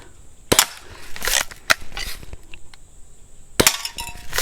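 Sharp, sudden gunshots fired at cans in a can-cutting shooting session, several cracks in quick bursts with a pause before a final cluster, close and loud.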